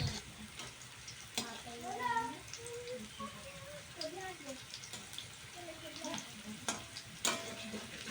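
Potatoes fry in hot oil with a steady sizzle, broken by occasional scrapes and clinks of stirring, with faint talk in the background.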